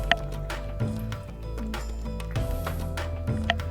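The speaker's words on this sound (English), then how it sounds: "So I'm just going to add 1 cup first" A cup of water is poured into a pot of rice for Thai Pongal, giving soft splashing and trickling with a few light clinks over a steady tonal background.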